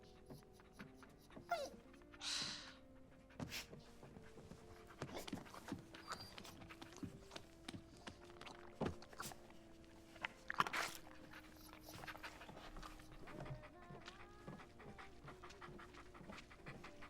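A dog pants and whimpers indoors in a domestic scene, breathy panting running through the clip with a few whines, mixed with footsteps and household movement at moderate level.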